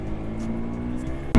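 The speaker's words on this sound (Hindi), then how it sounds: "बाइक की जो एक्सेलरेशन की वो है ना आवाज़, वो बहुत ही ज़्यादा प्यारी आती है" A motorcycle accelerates along a lit Delhi road at night, recorded from a helmet-mounted mic: a steady close engine drone with a sustained tone and wind rush, ending in a sudden loud burst.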